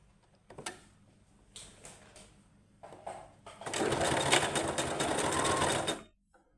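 A domestic sewing machine stitches a folded fabric piece in a round seam, a few short bursts of needle clatter and then one steady, loud whirring run of about two seconds that stops abruptly, up close.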